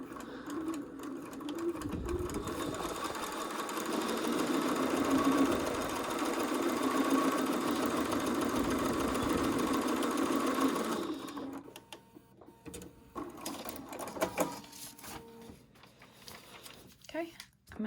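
A sewing machine stitches paper-pieced fabric in a steady, fast whirring run for about ten seconds, then stops, leaving scattered handling noises and a few brief bursts; a voice talks over parts of it.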